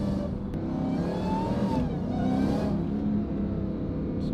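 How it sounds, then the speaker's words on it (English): Supercharged Dodge Hellcat engine revving through a titanium exhaust, a loud close drone rising and falling with a high supercharger whine layered over the roar. "all you get is that just raw supercharger sound"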